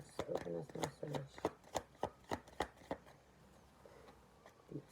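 Tarot cards being shuffled in a series of quick, crisp riffling snaps, some twelve sharp bursts in a steady rhythm that slow and fade away near the end, close and fairly clear.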